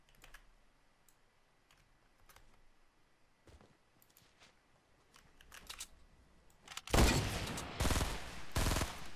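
Gunfire in the Fortnite video game starts after a quiet stretch of scattered light clicks, with a loud burst of close shots followed by a few more sharp reports near the end.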